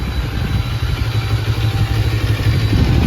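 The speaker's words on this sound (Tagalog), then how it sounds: "pinainit na natin yung makina" A motorcycle engine idles as it warms up before a long road trip, a steady low rumbling putter close by with light mechanical clatter, continuous and with no talking.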